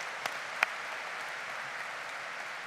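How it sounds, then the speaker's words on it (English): Graduates at a spring business college commencement applaud in a soft, distant, steady wash of clapping with a couple of sharper claps near the start. "give yourself a huge round of applause"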